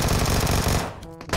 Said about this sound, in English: Shoot him from in here.